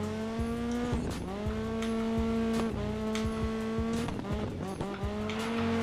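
A rally car in the Dirt 5 video game climbs uphill, its engine revving steadily with repeated gear shifts and brief tire squeals, alone and moderately loud.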